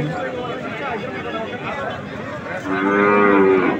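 Cattle low nearby at a livestock market, a deep drawn-out moo swelling near the end, with people chattering in the background.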